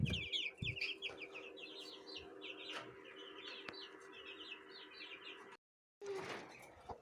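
Chicks cheep in rapid high bursts while hens cluck low beneath them, close and continuous, with a short silent gap before the chatter resumes.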